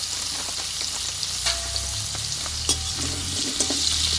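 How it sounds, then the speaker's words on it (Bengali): Potatoes for a Bengali potato and pointed gourd curry frying and being stirred in a pan, with a steady sizzle broken by scraping stirs and occasional clinks, close and with no talking. "এবার আলুটা আমি একটু ধীরে ধীরে কষিয়ে নেবো"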